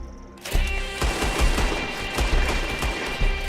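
Heavy gunfire in Red Dead Redemption 2, a sustained fusillade of loud, overlapping shots with irregular booming reports, close and continuous after a sudden start.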